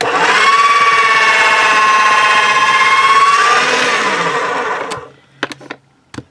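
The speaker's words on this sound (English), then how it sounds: "That's the part I'm going to put through my pasta machine." A hand-cranked pasta machine rolls a sheet of polymer clay for about four seconds, giving a steady whirring hum with a gliding tone, followed by a few sharp clicks and knocks, with no talking.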